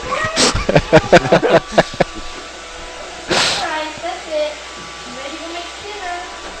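A cat dressed in an outfit and made to stand on a platform gives several drawn-out, wavering meows close by, after a burst of loud, choppy noise and voices at the start.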